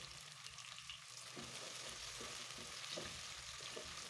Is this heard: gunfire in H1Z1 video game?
no